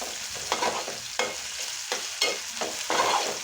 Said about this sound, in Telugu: అల్లం వెల్లుల్లి పేస్ట్ వేసుకొని పచ్చివాసన పోయేంత వరకు ఫ్రై చేసుకోవాలి